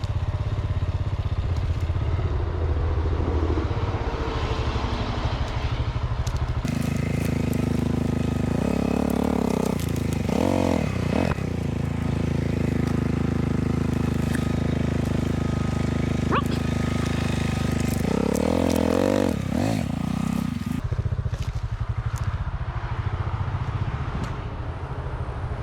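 Honda CRF250L dirt bike riding a Trans Canada Trail path along the old Kettle Valley Railway and crossing a couple of small logs, its single-cylinder engine droning steadily close by, with throttle blips and revving surges partway through.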